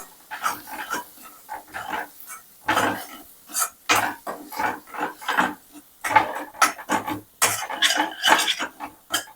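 Mushroom cashew curry with chilli powder being stirred in a pan: close, repeated clinks and scrapes of a spoon against the metal, in short irregular bursts with brief pauses.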